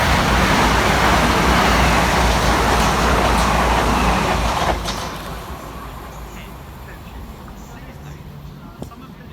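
A Southern Class 377 electric passenger train, units 377416 and 377410, roars loudly through Purley station in South London, the broad rushing rumble easing off about halfway through as it passes.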